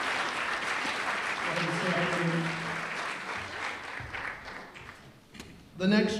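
A sports banquet audience claps steadily, with a voice and room chatter mixing in partway through before a louder burst of sound at the end.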